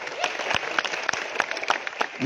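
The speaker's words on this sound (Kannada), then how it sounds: "ಇನ್ನೊಂದು ಜೋರಾಗಿ ಚಪ್ಪಾಳೆ ಹೊಡೆಯಿರಿ" Crowd applause at a farmers' leaders gathering in Ugar Budruk honouring farm-protest leaders: a burst of scattered, moderately loud hand claps from a nearby audience, with a faint voice in the background.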